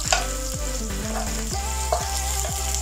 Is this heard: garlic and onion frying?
yes